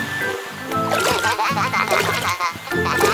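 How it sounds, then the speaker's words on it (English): Water splashes and gurgles in a cartoon fountain fed by a toy water tanker, loud bubbly spurts over a bouncy children's music backing. "Splashes."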